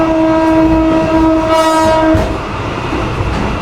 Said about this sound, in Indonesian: Lokomotif lama guys, BP 203.